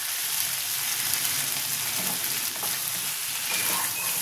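Mutton for a Bengali-style kosha with chui jhal sizzles and fries in a wok, stirred with scraping movements over a continuous crackle, close and clear, with no talking.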